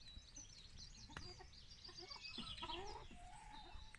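Chickens cluck and chatter on a smallholding beside a young apple orchard, several birds making short, scattered calls at close to moderate distance over faint outdoor background, quiet overall.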